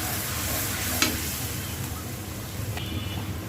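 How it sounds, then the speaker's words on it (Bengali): Salt and turmeric powder are stirred into hot oil in a pan for a rui and katla fish head curry, making a constant close sizzling hiss with faint scrapes and a light knock. "এক চামচ লবণ, 1 চামচ হলুদ গুঁড়া, ভালো করে নাড়াবো।"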